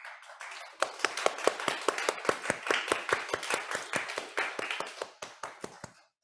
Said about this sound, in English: can I invite you to stand up and we have applause to them,